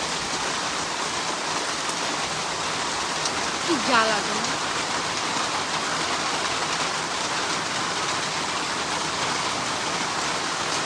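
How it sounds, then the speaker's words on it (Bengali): Steady rain falls with a broad, even hiss that fills the whole clip, and a short remark from a nearby voice rises briefly over it. "আর বৃষ্টি শুরু হয়ে গেছে দেখো"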